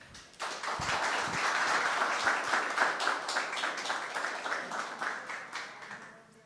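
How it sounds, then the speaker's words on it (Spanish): Applause breaks out at a book launch in a cultural centre, starting abruptly and holding as a fairly soft, even patter of many hands for several seconds before fading near the end. "del escritor José Miguel Font Bonilla, para quien pido un fuerte aplauso."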